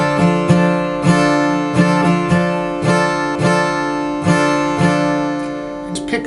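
An acoustic guitar strums a driving pattern with steady, accented down and up strokes in a repeating rhythm. It rings loud and full, with no voice over it.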